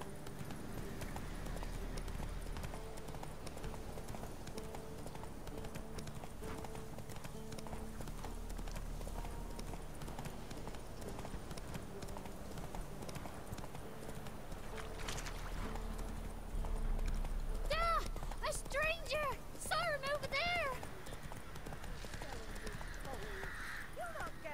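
Roach, the horse in The Witcher 3, galloping with steady rhythmic hoofbeats under game music, joined near the end by a few neighs and whinnies, while someone talks over it.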